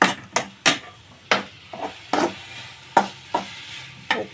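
Onions, tomatoes and green chillies sizzle in a pan while a utensil stirs and scrapes them in repeated sharp strokes, close and fairly loud.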